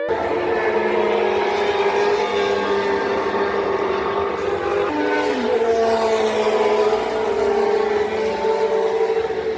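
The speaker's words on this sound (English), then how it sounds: "Those cars are so loud, so loud." Loud, continuous roar of historic Formula 1 racing car engines at Silverstone, with a pitch shift midway as cars pass close by, no talking.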